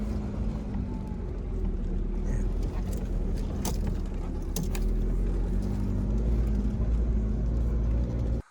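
A car climbs a muddy, snow-slushed mountain road in winter Himachal near Kamrunag temple, its engine droning loud and steady throughout with rumbling tyres, before the sound cuts off abruptly at the end.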